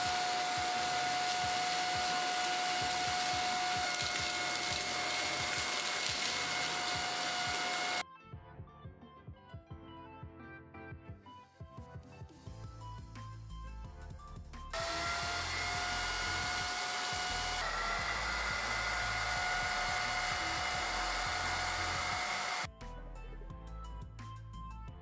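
A Xiaomi Mijia cordless vacuum cleaner's high-pitched 100,000 RPM motor whine runs steadily and loud, cutting out twice and switching pitch between bursts, with no voices.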